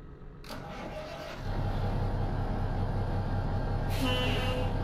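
A truck engine in a truck simulator game, fitted with a brand-specific sound mod, starts and settles into a steady low idle rumble, with a couple of brief airy hisses over it.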